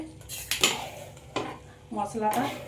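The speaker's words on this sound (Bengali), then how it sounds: "গরম মশলাটা মাখিয়ে দেবো অগ্নির সাথে" A spoon stirring garam masala into mutton aukni in a metal pot, several loud scraping clinks against the pot's side in irregular bursts over a faint background sizzle, close up with no talk.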